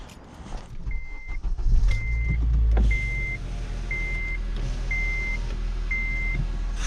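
A car engine idles steadily with a low rumble, while a series of evenly spaced electronic beeps chime above it.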